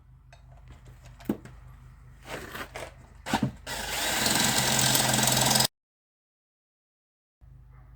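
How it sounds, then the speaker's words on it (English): A power drill with a dull 1/2-inch bit grinds into a Hercules engine oil pump part after a few knocks and scrapes, building to a loud sustained whir before cutting off abruptly into silence. "So I pulled out my finest dull 1/2-inch drill. See if we can clean that a little bit."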